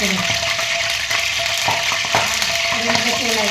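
Steady, dense sizzling of spices frying in hot oil, close by, with a few faint clinks and stirring sounds over the crackle.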